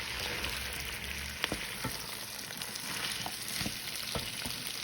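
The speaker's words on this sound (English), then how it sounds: "I've taken green and red bell peppers, so I'm just going to add that in now. And then give that a nice mix." Green and red bell peppers sizzle quietly in a pan as they are stirred for a South Indian coconut pilau, with a soft, steady hiss broken by a few scattered crackles and stirring clicks.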